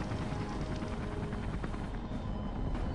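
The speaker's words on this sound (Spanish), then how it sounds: "A ver, el helicóptero" A steady, loud helicopter drone with a broad rotor roar from the video game Beyond: Two Souls, continuous and unbroken, sounding like a game sound effect.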